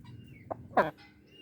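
A hen clucking right after laying a large egg, two short close calls, the second louder and longer, over quiet background.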